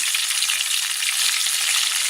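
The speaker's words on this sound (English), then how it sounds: "Adding our chicken to the frying pan." Chicken leg quarters in hot oil in a frying pan sizzle and crackle steadily and close up, a continuous bright frying hiss with no talking.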